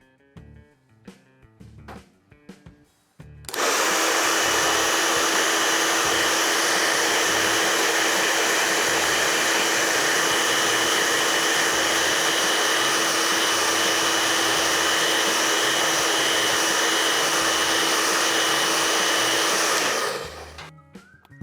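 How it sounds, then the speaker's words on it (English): A hot blow dryer switches on and blows steadily at close range onto a spoon for chocolate tempering, a loud, even whooshing roar lasting about seventeen seconds before cutting off. "run a hot blow dryer over it and then dip it"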